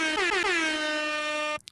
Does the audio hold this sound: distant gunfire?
no